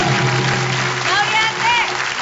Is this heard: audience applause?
yes